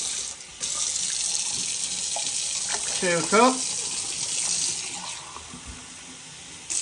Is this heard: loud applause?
no